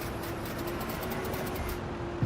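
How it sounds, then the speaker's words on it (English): Bird calls from a farm map in a video game, a steady dense chorus with faint cooing, fairly loud and unbroken throughout, no talking. "the birds are really loud on this map."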